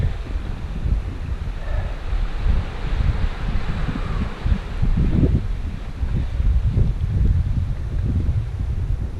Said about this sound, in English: Ah, fabulous breeze.